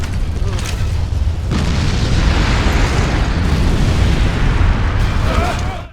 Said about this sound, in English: there's a volcanic eruption happening outside